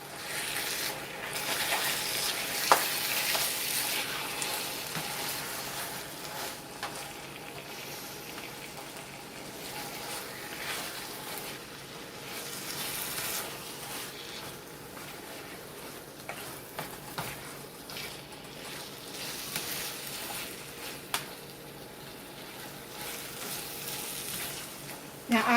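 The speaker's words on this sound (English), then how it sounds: "so let me stir that in" Casserole ingredients stirred in a frying pan give a steady, soft sizzling hiss throughout, with occasional faint clinks and scrapes.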